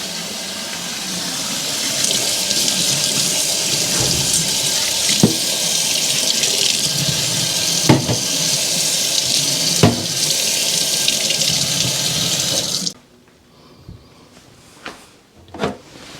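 Canning jars washed under a running sink tap, a loud steady gush of water with occasional glass clinks and knocks, then the flow stops and a few soft handling sounds follow.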